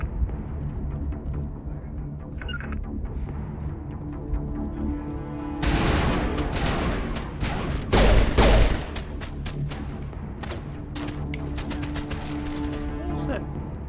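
Gunfire in the video game Mass Effect, steady background combat crackle that swells into a loud burst of rapid shots midway, over music and game sounds.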